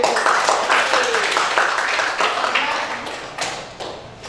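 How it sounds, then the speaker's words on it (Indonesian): A room full of people claps, a dense patter of applause that gradually thins and fades toward the end. "Bagus sekali. Tepuk tangan."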